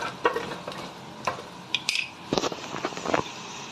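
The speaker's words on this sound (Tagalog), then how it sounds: "Luto lang ako ngayon ng kastanyas." Chestnuts being stirred in a pan, a few scraping and clattering strokes against the metal with faint sizzling, close and clear with no talk.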